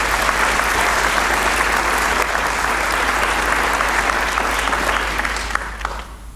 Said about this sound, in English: I would like to give a round of applause for all our presenters today.